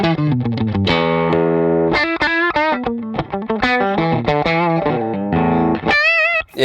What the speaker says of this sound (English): You can saturate the tubes, which I would think would be like a bit of drive.